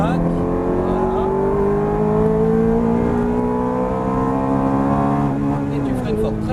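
A Ferrari F430 on a race track hums steadily at light throttle, its engine note rising slowly and then falling away, with an instructor talking throughout over the continuous close drone.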